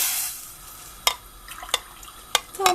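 A spoon stirs Turkish kuru fasulye, dried beans with meat in water, in a pot, with four sharp, distinct knocks and scrapes against the rim over a soft background hiss.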